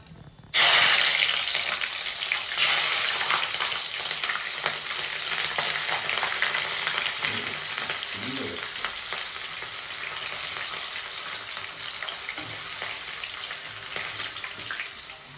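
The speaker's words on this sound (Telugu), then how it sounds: "కొంచెం సిమ్లో పెట్టుకొని మిర్చి వేయించుదాము." Green chillies drop into hot oil on a low flame in a home kitchen, setting off a sudden loud sizzle that settles into a steady crackling fry with occasional stirring.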